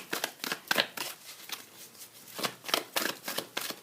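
Tarot cards being shuffled for a reading: quick bursts of riffling and flicking card noise, close and crisp, coming in an uneven rhythm of short strokes with no voice over them.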